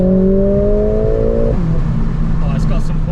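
A Mercedes-AMG A45 S engine revs up, its pitch climbing, then drops as the gear shifts and it pulls again, steady and loud up close.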